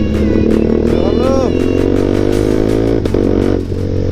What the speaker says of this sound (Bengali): লাউড এক্সস্ট পুরো, বাপরে বাপ